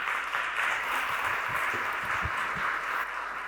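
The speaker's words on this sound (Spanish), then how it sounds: "Adelante, la recibimos con un aplauso." Audience applause welcoming a speaker at a Spanish-language launch event, a steady wash of clapping at moderate, even level with a faint undertone of low murmur throughout.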